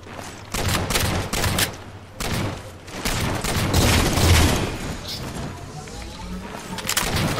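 Rapid bursts of gunfire in the video game Halo 4, repeated sharp volleys and sustained firing with booming low end, loud and close, continuing in clusters across the whole stretch with a voice speaking underneath.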